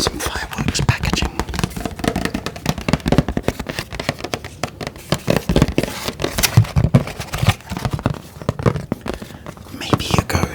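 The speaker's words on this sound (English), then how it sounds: "So here we have some fireworks packaging." Fireworks packaging handled close to a mono microphone, with crinkly crackles, taps and scrapes arriving in an irregular stream of sharp, crisp bursts at steady loudness.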